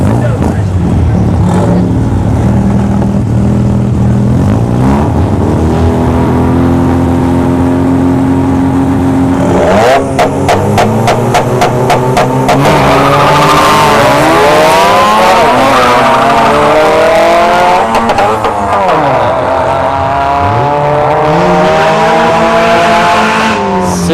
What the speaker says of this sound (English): the RX-7 is just spinning like crazy through all his gears